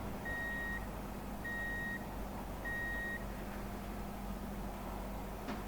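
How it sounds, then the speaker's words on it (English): Truck reversing beeps in Truck & Logistics Simulator, three evenly spaced electronic tones over a steady low engine hum, fairly faint. "And then we'll reverse this thing in on our trailer."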